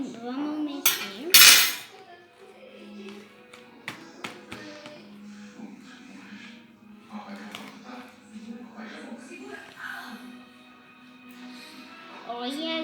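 A utensil stirs and scrapes homemade four-ingredient slime in a bowl, with irregular clinks and taps against the bowl, one sharp clatter early on and someone talking over much of it.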